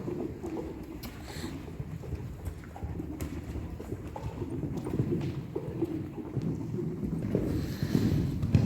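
Horse hooves clip-clop steadily at close range, with birds cooing and chirping in the background.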